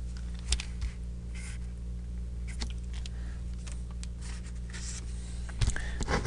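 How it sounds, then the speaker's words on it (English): Marker pen writing on a board during an engineering lesson, giving soft scratchy strokes in short bursts over a steady low hum, with a couple of louder taps near the start and end. "Let me find different color markers here so I can write them down nice and neat."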